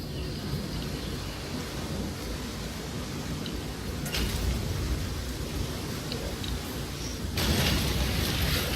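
Steady rain hisses without pause in The Flame in the Flood, a broad wash of noise with brief gusty surges partway through and near the end, and no voices over it.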